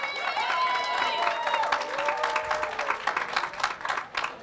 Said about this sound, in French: un tonnerre d'applaudissements pour Maïmou, s'il vous plaît